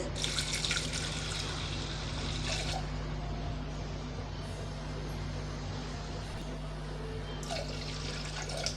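Steady running water pours into a pot of lentils, a continuous rushing stream with a brief lull partway through, no talking.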